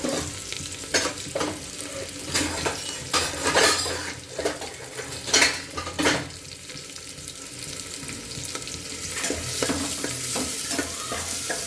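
Chillies and onions fry in a home kitchen pan, giving a low steady sizzle broken by repeated spatula scrapes and pot knocks, along with occasional running-water sounds and no speech.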